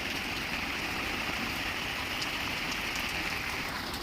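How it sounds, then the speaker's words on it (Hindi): Heavy rain pours down steadily, a loud, dense hiss of water on surfaces with no gaps, filling the whole stretch without any voices. "बहुत ज़्यादा ज़ोरों की बारिश हो रही है"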